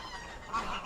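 Greylag geese honking at a wetland centre, a short nasal call rising out of outdoor background noise, moderately close and heard briefly.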